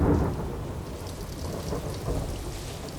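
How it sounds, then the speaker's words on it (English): Steady rain falling with low rolling thunder rumbling underneath, a continuous soft wash of sound with no voices. "if you listen to the rain long enough, it starts to sing to you"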